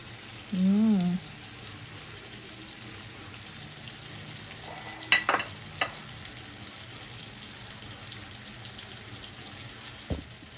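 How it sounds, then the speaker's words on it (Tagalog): Beef for sinigang fries in a pot with a steady, soft sizzle. Stirring adds a few sharp clinks and scrapes near the middle and end, and a brief low voice sounds near the start. "Ilalagay ko na po itong ating beef mga kabeshi."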